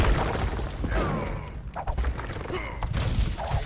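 Bombard cannons firing in an Age of Empires–style strategy game battle, with dense overlapping blasts and rumbling impacts in a busy, continuous din of combat.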